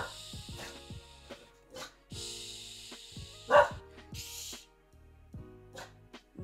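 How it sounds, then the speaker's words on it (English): A pet dog barks indoors in a series of short, sharp yaps spread across several seconds, fairly close by, with music playing softly underneath. "Sorry, my dog."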